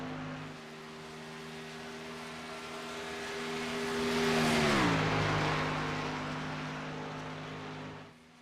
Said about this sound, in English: '47 of Richard Kuhn getting his race car up to speed